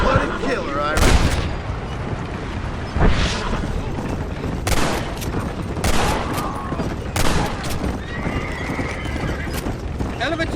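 Gunfire in Red Dead Redemption, several sharp loud shots spaced irregularly over galloping hooves and horse noises, with bursts of close firing amid the chaos.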